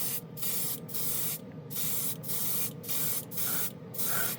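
Repeated short bursts of chrome spray paint hissing from an aerosol can, about eight in a steady rhythm, each lasting under a second with brief pauses between, close and fairly loud.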